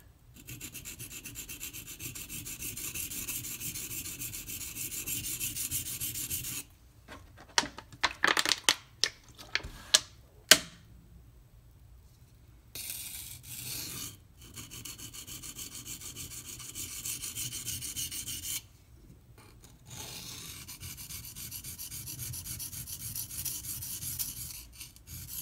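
A Benchmade Mini Freek knife with an S90V steel blade is drawn across a sharpening stone, giving steady close rasping strokes in long runs, broken by short pauses and a few sharp clicks.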